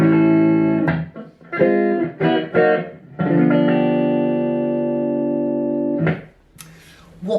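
Gibson 2019 NOS Les Paul Tribute DC electric guitar played through the neck pickup on a clean, dry setting: loud ringing chords and single notes, several strums with sustained decays and short gaps between them.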